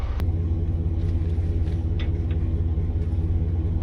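A vehicle stuck in desert sand spins out, its engine a deep, steady rumble held close and loud throughout with no break.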